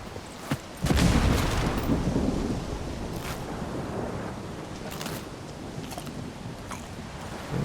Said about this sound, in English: We shouldn't be up here during a thunderstorm.